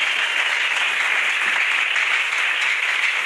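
Church congregation applauding the word of God during a French-language sermon, a steady dense wash of clapping that stays loud and even throughout without pause.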